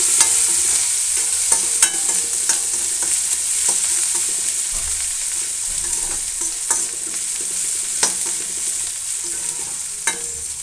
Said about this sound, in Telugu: తగినంత పసుపు వేసుకొని బాగా కలుపుకోవాలి.